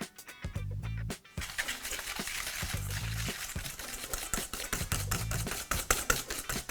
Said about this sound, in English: So now I just need to add that to 150 grams of caster sugar and give it a whisk.